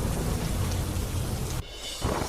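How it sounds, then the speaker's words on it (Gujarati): Heavy monsoon rain pours down in the rural area of Dhoraji, a dense, loud, continuous hiss that briefly dips and then returns. "ધોરાજીના ગ્રામ્ય વિસ્તારમાં ધોધમાર વરસાદ."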